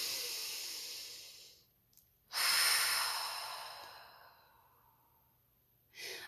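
Someone takes a deep, slow breath during a calming emotional-reset exercise, a long airy inhale followed by a drawn-out breathy exhale, close and alone, with a short breath starting again at the end.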